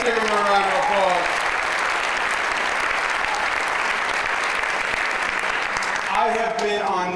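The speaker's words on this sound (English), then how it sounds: "Let's give him a round of applause." An audience gives Cardinal Dolan a sustained round of applause, a loud, steady wash of clapping that fills the room from start to finish, with a voice speaking briefly at each end.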